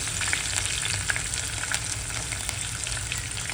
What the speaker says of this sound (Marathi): आता आपला लसूण आणि मिरची वगैरे चांगली फ्राय झाली आहे.